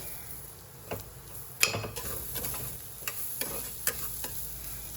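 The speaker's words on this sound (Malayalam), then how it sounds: "നമുക്ക് നന്നായി ഇളക്കി യോജിപ്പിക്കുക" Spice masala stirred in a cooking pan for biryani, with clinks and scrapes of a spoon against metal over a low sizzle, close and irregular, no talking.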